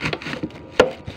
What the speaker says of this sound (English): Cut ko na yung apple.